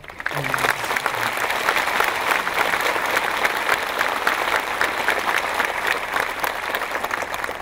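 A ceremony crowd at a Buddhist temple, marking a revered monk's 150th birth anniversary, breaks into dense, steady applause that fills the whole stretch at an even, fairly close level.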